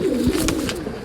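Pigeons being sold in Bangalore give a soft, low coo, a short murmuring call close by against a faint background bustle.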